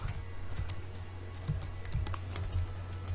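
Computer keys clatter in quick irregular taps during 3D modeling work in Autodesk Maya, soft close clicks over a low steady background hum.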